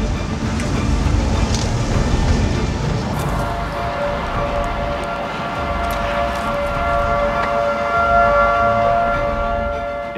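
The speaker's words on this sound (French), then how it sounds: "on entendait les sirènes au loin" Tornado warning sirens wail in the distance during the 2013 El Reno, Oklahoma tornado, a sustained rising and falling tone over a heavy rumbling wind-like background, no voices.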